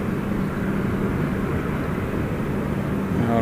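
A large airliner at Gold Coast Airport drones steadily at a distance, a continuous low engine roar with no talking.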